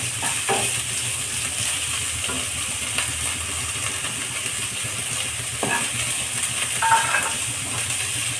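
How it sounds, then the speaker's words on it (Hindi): Sliced dried onions fry together in a pan for a green pea ghugni breakfast dish, giving a steady, close sizzle throughout with occasional scrapes and light clinks of stirring. "दोनों को फ्राई कर लेंगे।"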